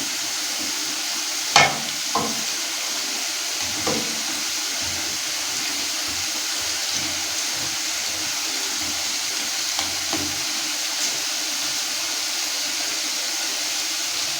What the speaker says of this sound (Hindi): हम कोफ्ते आराम आराम से इनको पलटा भी दे रहे हैं और ये फ्राई होते जा रहे हैं